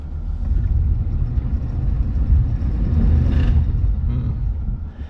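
GMC Terrain AT4 engine droning and revving steadily while stuck with only the front right wheel on the ground, a dense low rumble with a slight rise in effort near the middle, no talking.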